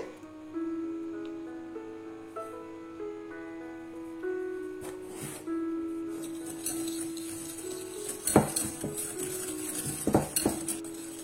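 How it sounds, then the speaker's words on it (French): A hand whisk beats egg yolks with sugar in a bowl, giving soft metallic clinks and scrapes that grow busier and louder toward the end, with faint tonal music early on. "Je vais mélanger ensemble les jaunes d'œufs avec le sucre, avec le fouet manuel"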